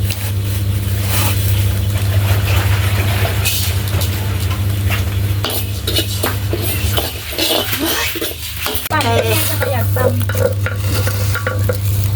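Rice being dry-roasted in a pan for the Surin sweet ban yae krim, with a steady scraping stir and dry rustle over a constant low hum throughout, loud and close.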